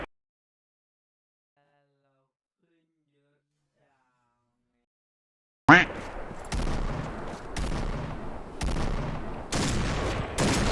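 Rapid bursts of gunfire from the online shooter game Point Blank start abruptly after several seconds of silence, then continue as loud repeated volleys.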